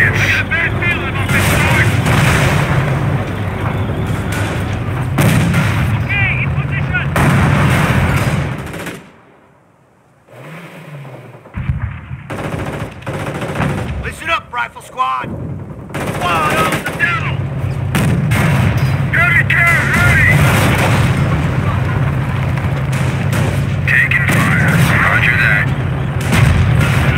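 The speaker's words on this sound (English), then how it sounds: "base is under enemy fire." Artillery and gunfire hit a base in the PC game Company of Heroes (2006): loud, dense bursts of shelling and rifle fire roll almost continuously, with a brief lull partway through and game voices mixed in.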